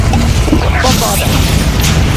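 Bombarda blast spell in Hogwarts Legacy, a booming explosion with crashing debris amid dense, loud combat effects; the sound is thick and continuous rather than a single isolated bang, with a voice mixed in.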